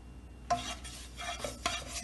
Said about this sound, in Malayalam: ഇനി നമുക്ക് ഇതൊന്ന് മൂപ്പിച്ചെടുക്കാം നല്ലവണ്ണം